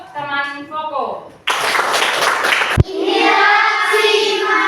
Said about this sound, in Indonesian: Tepuk tangan untuk teman Koko.